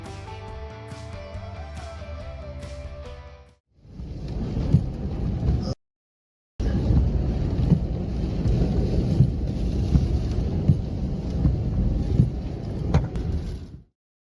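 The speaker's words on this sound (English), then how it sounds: "a combination of strong winds, lightning strikes, and heavy rain, creating a powerful storm in the United States" Powerful thunderstorm in Wheatfield, Indiana, with strong winds, lightning strikes and heavy rain: a dense, loud roar of rain and wind gusts fills most of the clip, broken by a brief silent gap, after a short musical passage at the start.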